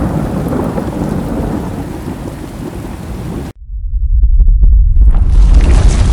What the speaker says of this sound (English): there was suddenly a clap of thunder